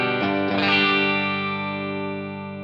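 Electric guitar with a split humbucker pickup played through an HX Stomp on a clean tone: a few quick picked notes, then a strummed chord ringing out and slowly fading, alone with no talk.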